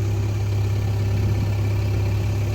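Tractor engine running steadily at a construction site in GIFT City, a continuous low idling drone with a strong bass hum, close and constant throughout without pauses.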